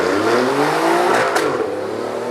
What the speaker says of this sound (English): We're driving Alfa Romeo's highly anticipated Giulia sedan, seen here in its hottest QV form.